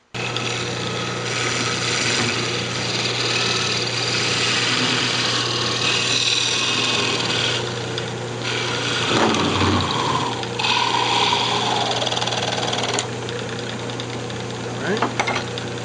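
A steady mechanical whir of a spinning wood lathe parting off a bandsaw box workpiece, with scraping cutting noise, brief pauses and a few sharp knocks near the end.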